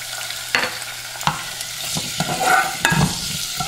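Lime juice and vinegar poured into a hot sauté pan, giving a steady loud sizzle with several sharp clacks of a utensil stirring against the pan, close and without speech.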